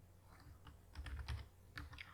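Keys clatter on a computer keyboard in short uneven bursts of clicks, fairly quiet and close, with a few louder clusters of strokes and no talking.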